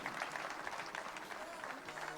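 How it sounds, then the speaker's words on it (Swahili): Applause from an audience at a KAWI week celebration in Kitui: a steady, dense patter of many hands clapping, fairly faint and distant, with no break for its whole length. "Hamtawapigia makofi?"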